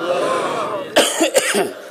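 A person coughs sharply a few times in quick succession after swallowing an insect, close and loud, following a brief stretch of strained throat sound.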